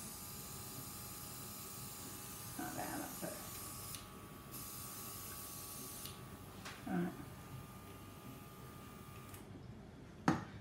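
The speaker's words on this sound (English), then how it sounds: "all I've done is just spray it" A spray nozzle hisses into a small tub of water in steady bursts with faint clicks and a sharp click near the end, a voice murmuring briefly in the background.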